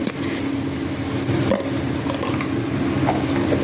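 Turmeric tipped into hot oil gives a steady, close sizzle that holds throughout, with a low humming tone running underneath.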